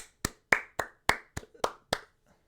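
Several people clap in a sparse, uneven burst of about seven sharp claps spread over two seconds, close and loud with short gaps between them.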